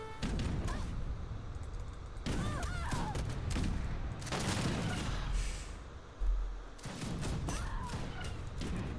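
Massed musket volleys from an Age of Empires 3 battle, with repeated booming, crackling salvos rolling across the battlefield and faint unit voice calls mixed in.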